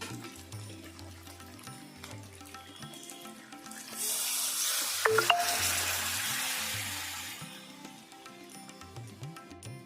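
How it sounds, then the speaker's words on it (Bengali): Hot water poured into a pot of well-braised chicken for pulao bursts into a loud hiss and sizzle midway, then fades back under soft background music. "এবার আমি দিয়ে দিচ্ছি গরম জল।"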